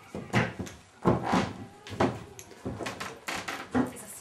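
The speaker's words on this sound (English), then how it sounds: "It's a sliding door." A sliding door at a Gero Onsen house being opened or closed, a series of repeated wooden rattling slides and knocks close by, with no talk over them.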